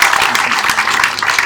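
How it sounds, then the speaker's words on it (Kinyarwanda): A church congregation applauds, producing loud, dense, continuous clapping that fills the room with a voice faintly mixed in. "dukomera Imana amashyi kubwiwe n'umugore"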